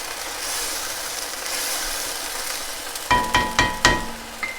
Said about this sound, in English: Just about a cup of red wine, maybe a little less. I'm going to let that cook down, simmer away.